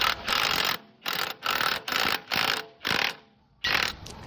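A wrench ratcheting a 1.5 inch socket during a steering cylinder replacement: a close series of about seven bursts of rapid clicking separated by short pauses, with no talk.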